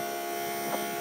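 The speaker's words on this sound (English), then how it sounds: "This is a very powerful aircon unit." A large Fagor model 6453 air conditioner runs at high fan speed, giving a steady, even hum and broadband airflow rush with no breaks.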